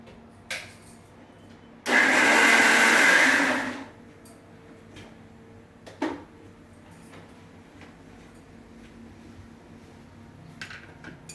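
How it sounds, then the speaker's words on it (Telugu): A kitchen mixer grinder grinds ridge gourd chutney with salt and chili, giving one loud, steady whirring burst of about two seconds between quieter clinks and taps. "దీన్ని మిక్సీ పట్టుకుందాం ఇప్పుడు"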